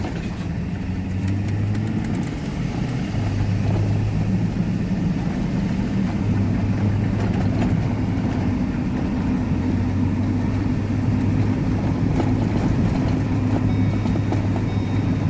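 Car out on the road just after its brake calipers were replaced, with a steady, loud engine drone and road rumble continuing without a break and no talking.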